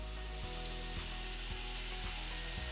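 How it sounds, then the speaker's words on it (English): Butter sizzling in a preheated pan on medium heat, a steady dense hiss with soft periodic scraping taps, close and continuous. "Add 1 tablespoon of butter to a preheated pan"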